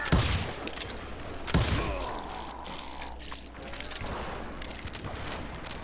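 Gunfire in the western shooter game Call of Juarez Gunslinger: a few sharp, loud shots burst out over a steady rumbling ambient bed, with quieter crackling between them.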